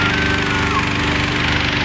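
Propane burner of a hot air balloon at a sunrise launch in Temecula, California, roaring as a loud, steady broadband blast that fills the whole moment, with excited voices nearby.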